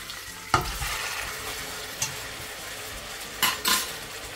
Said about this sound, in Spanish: Una vez que tenemos el aceite caliente, vamos a echar los ajos